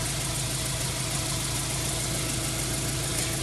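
A Subaru EJ engine idles while warming up, a close, steady mechanical hum with an even rhythmic pulse and constant whirring, no voices.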